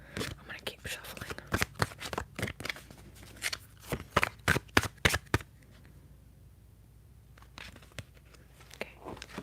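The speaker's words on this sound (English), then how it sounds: "I'm gonna keep shuffling." Oracle cards are shuffled by hand in quick, crisp riffles and slaps, close and soft, with whispered talk alongside. The shuffling pauses into near silence before a few final light taps.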